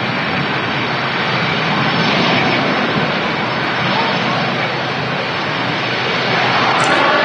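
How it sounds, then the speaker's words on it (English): A Boeing 767 wide-body jet arrives on runway 23 right at Manchester Airport, a loud, steady jet engine roar that fills the whole stretch with no break. "Nice wide body arrival here at Manchester Airport's 23 right."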